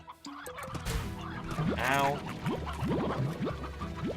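Hen slimes in the video game Slime Rancher cluck and squawk in a busy flurry of short, pitchy calls, close and fairly loud, with a player's voice briefly exclaiming over them.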